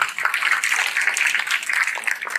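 Dense, steady applause from a crowd at a golden jubilee ceremony in Patna, many hands clapping at once with no break, fairly loud and close throughout.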